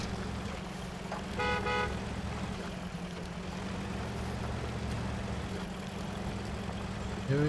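Truck horn in the Mudrunner off-road driving game, a single short honk sounding over a steady low idling engine drone.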